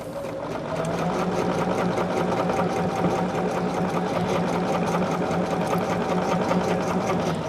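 Sewing machine stitching quilt rectangles for a sunbeam quilt, a steady, fast mechanical whir with a rapid needle rhythm running continuously at close range after a brief start.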